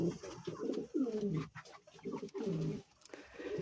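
Pigeons coo in repeated low, rolling phrases at a farm loft, several calls following one another closely at moderate loudness, with no voices over them.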